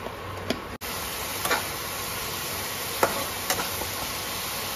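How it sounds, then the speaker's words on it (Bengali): Spice masala with Kashmiri red chili, a little sugar and cumin powder sautés in a pan over an induction cooktop, with a soft continuous sizzle and a few sharp spoon taps and scrapes, close but fairly quiet. "দেখো মশলাটা ভালো করে কষিয়ে নিয়েছি"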